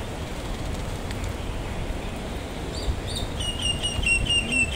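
Birds chirp and tweet in bursts over steady outdoor ambience along a bikeway at Nankan, growing a little more prominent toward the end.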